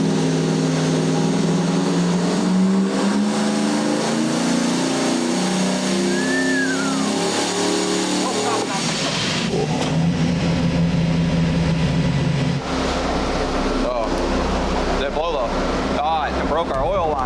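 A turbocharged 460 big-block Ford V8 revs hard on a dyno, its loud throaty roar building and then cutting out abruptly, followed by rough idling and sputtering as people talk over it.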